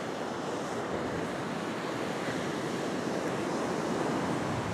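Strong wind roars steadily at Curl Curl Beach alongside the wash of surf, a broad, loud and unbroken rush with no voices.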